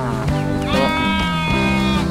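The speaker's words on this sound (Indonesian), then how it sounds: "Nih dia punya domba nih" A sheep bleats loudly and close by in a long, wavering call that rises and then drops in pitch, with no talking over it.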